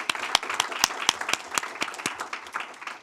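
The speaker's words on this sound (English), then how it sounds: "let's also give her a round of applause" An audience at a state board of education meeting applauds an honoree, with sharp, distinct hand claps ringing out over a softer bed of clapping for a few seconds.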